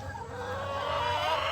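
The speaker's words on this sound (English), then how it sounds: "Chickens are happy to see me." Chickens cluck steadily inside a backyard coop, several birds close by producing a continuous, fairly loud chorus of clucks with no talking.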